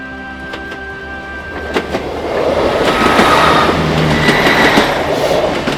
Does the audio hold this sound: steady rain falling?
no